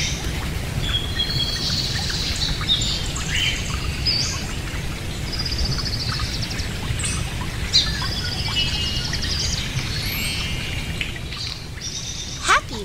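A pet parrot chirps and calls in a room, bright tweets and squawks scattered over a steady trickling background, fairly close and continuous.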